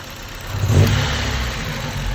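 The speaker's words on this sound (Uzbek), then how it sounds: "Qaltirab turibdi motor." A Nexia 2 with a 1.5 engine runs rough and shaky, a steady mid-pitched engine drone with a brief surge of revs partway through, close and continuous.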